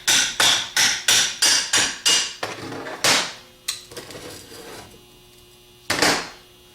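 A hammer taps apart the front half of a 10SI alternator, a quick run of seven sharp metallic blows followed by a few slower, scattered knocks and one final loud strike, close and clear with no talking.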